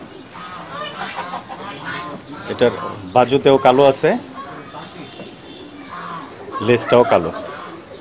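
Pigeons coo and burble in a loft, their calls rising in strong bursts near the middle and end while someone talks over them.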